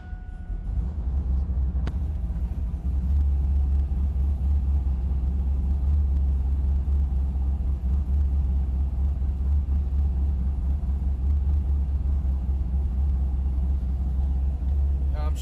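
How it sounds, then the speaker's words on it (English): A car with a Holley Dominator system and 4L80e transmission starts up and then settles into a steady, loud, low rumbling idle that runs throughout. "Let's fire up the car."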